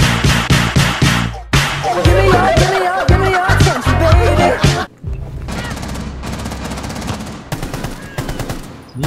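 Loud bursts of rapid automatic gunfire from a shooting video game, with machine-gun volleys and single shots breaking off and resuming across the clip, mixed with game effects.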